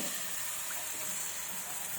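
A cup of water pours into oil-roasted spice masala in a pan for patvadi, a steady close splashing gush lasting about two seconds without any voices.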